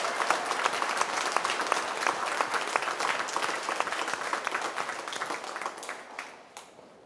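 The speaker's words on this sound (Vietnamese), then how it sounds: "chúng ta làm một tràng pháo tay chúc mừng con em của chúng ta được thêm sức." A church congregation claps for young confirmation candidates during a Vietnamese-language Corpus Christi Mass, with sustained, dense applause filling the space before tapering off near the end.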